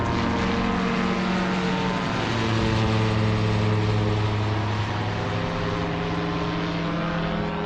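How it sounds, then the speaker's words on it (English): A yellow Rotor Sport UK microlight takes off from the runway at the Montrose air show in Scotland, its propeller engine droning loudly and steadily throughout, with the pitch shifting slightly as it powers up. "there's actually a microlight on the runway away to take off"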